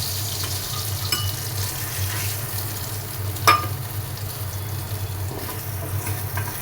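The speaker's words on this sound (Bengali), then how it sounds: "চাল কুমড়া ভাজা" Ash gourd frying in a pan, a steady low sizzle with soft stirring scrapes and one sharp clink partway through, close by with no talking.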